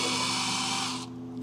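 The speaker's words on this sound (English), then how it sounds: "All right, I'm going to drill this first hole here." A power drill fitted with a centering bit bores a hole during a trolling motor battery cutoff switch install, a steady close whirring that cuts off abruptly near the end, leaving low fan hum behind.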